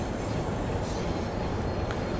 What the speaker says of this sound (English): There goes the railhead treatment train.